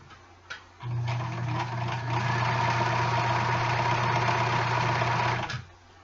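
A sewing machine stitching rows of fabric runs in one continuous burst of about five seconds, a steady close mechanical hum that starts after a few faint clicks and stops cleanly, with no talking.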